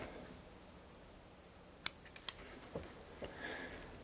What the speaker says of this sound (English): then I'm going to go ahead and trim those.